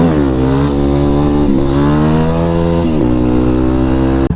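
A 2008 Yamaha WR250R motorcycle engine revving loudly and close on a first ride, its pitch climbing and dipping through a few throttle swells, with a brief break at the very end.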